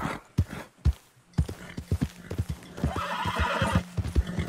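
A horse in Red Dead Redemption II snorts and whinnies amid clopping hooves, with sharp close thuds at first, then a longer neigh and a rapid run of hoofbeats.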